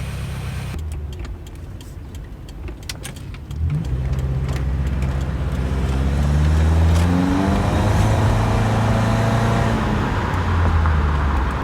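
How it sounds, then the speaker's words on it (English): A Subaru Crosstrek engine rumbles up close, a low steady drone that rises after a few seconds into a louder revving swell with climbing tones, then holds at a strong, throaty idle-to-cruise level. "Subie rumble."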